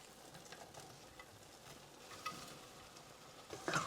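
Bitter gourd (karela) pieces hitting a hot pan for a dry onion sabzi, with a soft steady sizzle and scattered stirring scrapes that rise into louder clattering bursts near the end.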